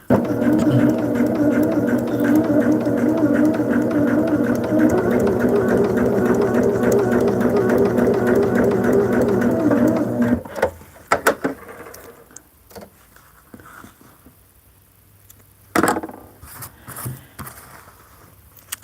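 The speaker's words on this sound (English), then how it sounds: "And sew on the line." A sewing machine stitching along a marked line on folded fabric for a modern sampler quilt, a loud steady whirring hum with rapid needle rhythm for about ten seconds, then stopping, followed by a few clicks and rustles.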